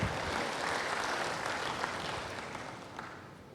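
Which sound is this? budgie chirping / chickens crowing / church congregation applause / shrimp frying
church congregation applause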